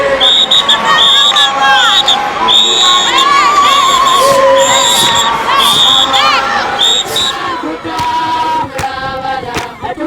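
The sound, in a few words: women clapping and high-pitched ululations at Lesotho dance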